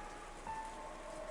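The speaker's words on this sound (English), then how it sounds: "everyone listened to the sound of the wind and rain" Steady rain with wind in the Umineko When They Cry visual novel, a soft, even hiss of falling drops heard alone at low volume throughout.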